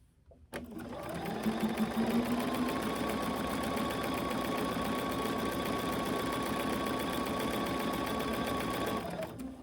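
A sewing machine runs a seam on a pre-cut fabric face mask, close and steady with a continuous rapid whir that winds down at the end.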